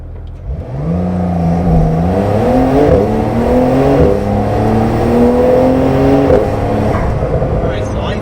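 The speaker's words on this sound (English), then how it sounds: "I'm going to take off really hard from these freeway lights" A car launches hard from freeway traffic lights, its engine climbing through several rising rev sweeps with gear changes in between, loud and close from inside the cabin.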